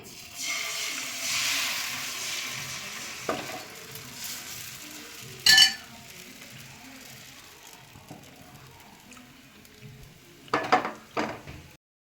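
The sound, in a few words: neer dosa batter poured onto hot pan, cooking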